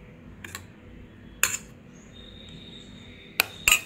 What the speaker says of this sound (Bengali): একটু দিয়ে নাড়িয়ে দিচ্ছি একটা চামচ দিয়ে